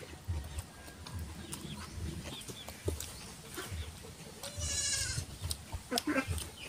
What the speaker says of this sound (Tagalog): Malapit yung anak ng kambing. Malit pa.